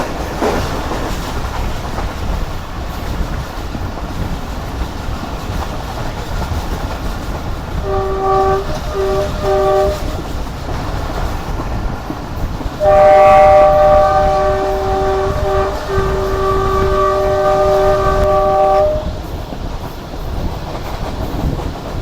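The Jaffer Express, pulled by a Chinese-built locomotive, rushes past at high speed with a loud steady rumble and wheel clatter, broken by two long blasts of its multi-tone horn, the second louder and sustained for several seconds.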